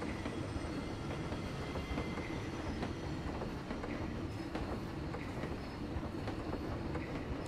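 A train moving through the Planet Coaster video game park, heard as a steady, loud rumble with rapid rhythmic clatter along the track, continuing unbroken throughout with no voices.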